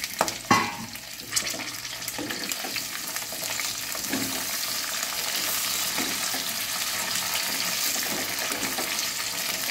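Boiled amla poured into hot spiced oil, giving a sharp initial splash and burst of sizzling that settles into a steady, loud crackling fry with occasional stirring scrapes.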